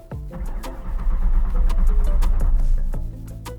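A 600 hp Mustang with a wiring fault cranks without catching, a loud, close rhythmic starter churn with sharp spikes as the engine turns over repeatedly but fails to fire.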